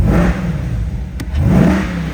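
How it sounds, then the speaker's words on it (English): A 2023 Chevrolet Corvette C8 convertible engine revs twice in quick succession, a deep rumbling roar rising and falling, close and loud. "Let's give it a couple quick revs for you guys."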